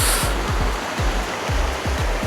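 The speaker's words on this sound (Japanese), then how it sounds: "さあまた川の音聞こえてきましたね" A river rushes steadily close by on a mountain trail, continuous loud watery noise with no break, while thudding footsteps or jostling repeat underneath.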